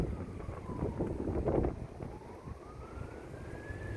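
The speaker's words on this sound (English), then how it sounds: "I hope whoever those sirens are for, I hope everybody's okay." An emergency vehicle siren wails faintly in the distance, slowly rising and falling, under strong wind of 100 mph gusts buffeting the microphone during a power outage.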